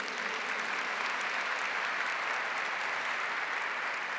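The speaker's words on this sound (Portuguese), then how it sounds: "Pode aplaudir esse testemunho." Congregation at a religious talk about angels applauds a testimony, a continuous even wash of many hands clapping at a moderate level with no talk over it.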